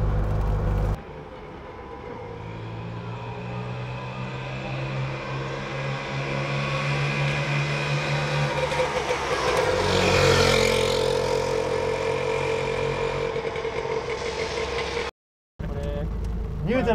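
A Messerschmitt KR200 three-wheeled microcar drives along with its small engine droning steadily and rising in pitch as it accelerates, heard from inside over persistent road noise, and people talk over it.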